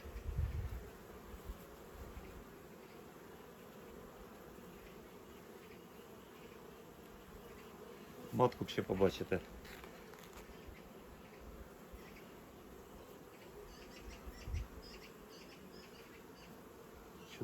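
Honeybees hum in a low, steady drone at an apiary hive, with a brief louder burst of buzzing nearby and a few quiet spoken words.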